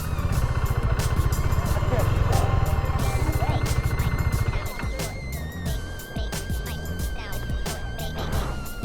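A KTM RC 390 motorcycle running on a hillside trail, its engine buzzing steadily up close before it drops into neutral to coast downhill, leaving quieter rolling noise and wind. A rider talks over it.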